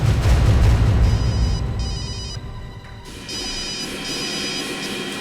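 A telephone rings in two short bursts of trilling bells over a low rumbling background.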